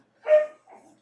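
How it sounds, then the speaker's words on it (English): Dogs playing indoors give a loud bark or yelp followed by a softer whine-like vocalization and the start of another bark, brief and close. "So my dogs are playing again."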